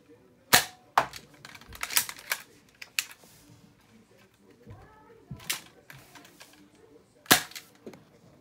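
Nerf toy guns firing at a home firing range, sharp plastic snaps in a loose sequence of about half a dozen shots, with faint clicks between them and no talking.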